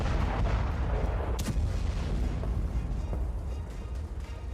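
A vehicle loaded with explosives blows up near Pakistan's army headquarters, a loud, rumbling blast roar with a sharp crack partway through, sustained and heavy before slowly easing off.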